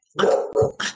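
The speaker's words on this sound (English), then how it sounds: "sorry, that's my dog in the background." A dog barks close by indoors, two quick loud barks followed by a third, short and sharp within about a second.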